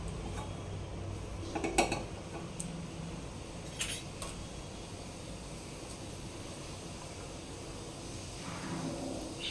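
A kadai is set onto a lit gas stove in a home kitchen, producing a couple of soft metallic clanks against a faint steady hiss, followed by quiet background.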